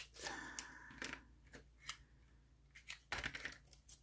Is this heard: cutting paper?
yes